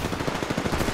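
Rapid automatic gunfire from an Apex Legends firefight crackles in a fast, continuous burst of closely spaced shots lasting about a second, with no talking.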